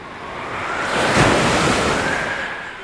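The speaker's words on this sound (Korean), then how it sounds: "열심히 바다를 항해하고 있었는데 점점 파도가 아주 거세지고" Rough sea waves crash around a sailing ship as the water grows wilder, a dense roaring wash that swells to a peak midway and then rolls on steadily, with no voices.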